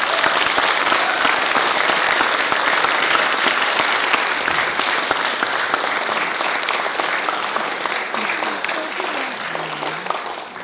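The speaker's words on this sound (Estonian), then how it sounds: "Sellele kostümeerijale peaks küll ühe aplausi tegema." An audience at a theatre day for people with special needs applauds loudly and steadily, a dense wash of clapping that fades slightly toward the end.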